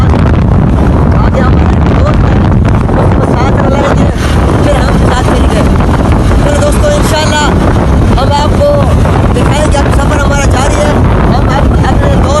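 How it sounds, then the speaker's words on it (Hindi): Loud, steady rumble of a motorcycle ride on an open road in Pakistan, with strong wind buffeting the microphone throughout and a voice talking over the engine and road noise. "इसलिए हम सफ़र कर रहे हैं मोटरसाइकिल के ऊपर"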